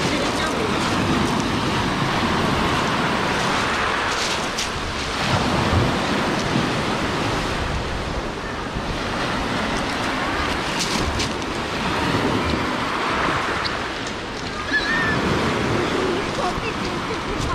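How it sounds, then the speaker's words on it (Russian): Black Sea waves on the shore at Lazarevskoye, Sochi, make a continuous, close surging roar that swells and eases over and over without a break. "Здесь сегодня волны."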